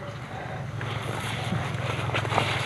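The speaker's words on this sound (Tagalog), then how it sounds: "May paparating na namang motor" A motorboat out on open water, its engine a steady low drone that builds slightly in loudness, with wind buffeting the microphone throughout.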